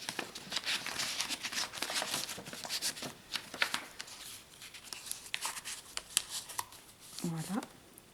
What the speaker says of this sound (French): un tag qu'on soulève comme ça, qu'on sort de la deuxième pochette